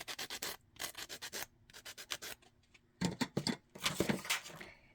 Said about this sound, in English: And then I did sand them down a little bit just so they're not as sharp.